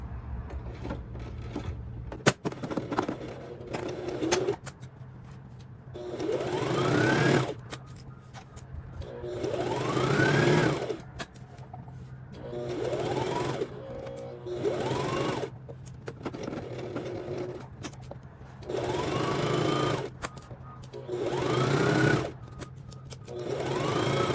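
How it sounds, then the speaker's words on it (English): A sewing machine stitches a 5/8-inch seam on a McCalls 7976 misses' top, running in repeated bursts of rapid mechanical whirring with short pauses between runs, close and clear, with no voices. "stitching. Again, at the 5/8 of an inch seam allowance."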